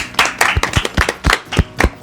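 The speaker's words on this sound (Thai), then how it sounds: "ปรบมือสิครับรอเลยครับ" Audience clapping at a Thai entertainment talk event with series cast members, a small crowd's loud, close claps falling in a fairly regular rhythm of about eight distinct beats, with no speech.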